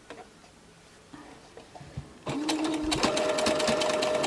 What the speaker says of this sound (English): all we're going to do is just stitch on the gathered edge just slowly